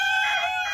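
A rooster crows close by in one short, bright, strained call that lasts under a second, heard clearly on its own.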